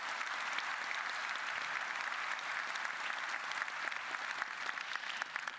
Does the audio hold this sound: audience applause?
yes